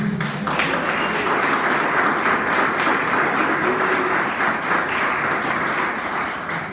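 A church congregation applauds Jesus, a dense, steady wash of clapping from many hands that holds evenly throughout at close range, with a brief low murmur near the start.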